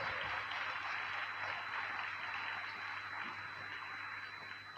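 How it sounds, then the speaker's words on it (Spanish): A congregation at a church healing and deliverance seminar applauds, producing a faint, continuous wash of clapping that tapers slightly toward the end. "Fuerte el aplauso a la palabra de Dios"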